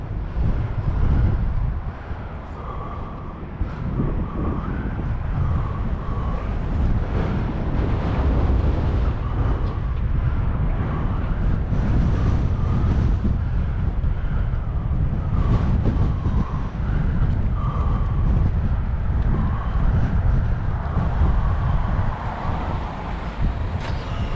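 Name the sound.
wind blowing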